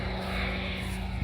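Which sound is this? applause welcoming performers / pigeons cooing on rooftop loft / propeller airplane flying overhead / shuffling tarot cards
propeller airplane flying overhead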